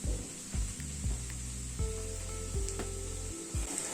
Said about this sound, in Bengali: এই মিক্সচারটাকে আরেকটু কষিয়ে নেব।